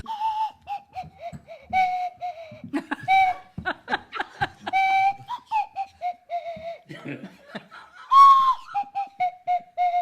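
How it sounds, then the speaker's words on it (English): Sliding whistle tones glide through a bouncy melody in short phrases, with laughter and chatter breaking in between notes. "on the Swanee whistle, we have song 2"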